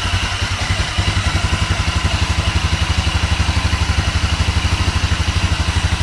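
A GY6 scooter engine, a 250cc Mega Hummer CVT just after a valve clearance adjustment, runs at a steady, even idle with a close, rhythmic putter and light mechanical clatter.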